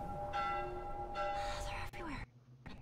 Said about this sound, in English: I guess that bell is like emergency.